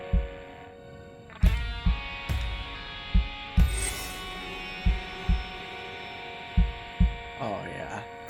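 Heartbeat pulses in the rhythm game Hi-Fi Rush thump at a regular, steady pace, loud and close, over a sustained musical hum.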